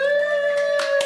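A few hand claps ring out in a home kitchen, brief and scattered over a steady sustained tone.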